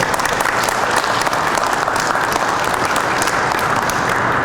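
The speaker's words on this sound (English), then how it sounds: "let's give him a round of applause for his work" An audience at a COVID-19 one-year memorial event at Union Station applauds Dr. Rex Archer for his work, a dense, continuous roar of clapping at steady loudness with no break.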